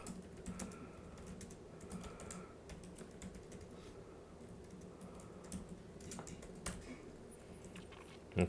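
Java code is typed on a computer keyboard, a quiet, steady patter of key presses in continuous runs over a low room hum.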